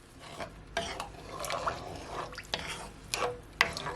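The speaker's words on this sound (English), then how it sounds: "Now I'm gonna add my coconut milk, and guys, this is at least 4 cups, okay? You want to mix it as you're adding it." Coconut milk is poured into a pot of jerk chicken rasta pasta and stirred in. Soft liquid sloshing and wet stirring run throughout, with a few light clicks of a utensil against the pot, close and fairly quiet.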